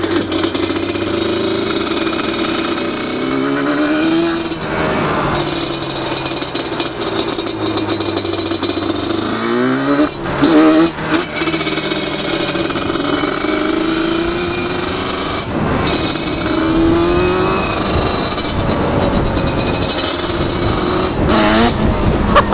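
Yamaha Banshee ATV ridden hard, its loud raspy two-stroke engine revving up and down continuously with sweeping pitch changes and brief dips between gears, close and dominating throughout.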